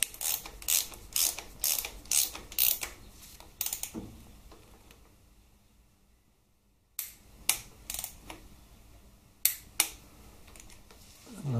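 A ratchet tightening the speed sensor bolt on a Harley-Davidson Twin Cam 88 engine during a rebuild: quick bursts of close clicking pawl strokes, a quiet pause, then more clicking runs.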